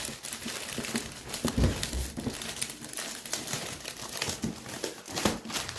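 Christmas gift wrapping is torn and crumpled open close up, with a run of rustling, crinkling paper sounds and a few sharper rips and no talking.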